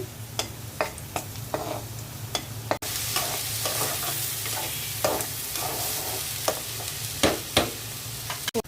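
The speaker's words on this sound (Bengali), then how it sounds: "পোলাও রান্না করব, পেঁয়াজ ভেজে দিচ্ছি।" Onions frying in a pan for pulao, a continuous sizzle broken by repeated clicks and scrapes of a spoon stirring, sharp taps recurring irregularly, with no one talking.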